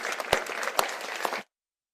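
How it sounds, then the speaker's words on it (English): An audience at a fly fishing championship closing ceremony applauds, a brisk round of clapping with a few sharp louder claps, then cut off abruptly into silence. "Let us give a good applause to Jean-Guillemot Mathieu."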